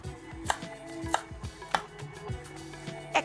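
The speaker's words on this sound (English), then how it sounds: "and finely chop." Kitchen knife finely chopping ingredients on a cutting board, a steady run of crisp, close taps about every half second, with no talk.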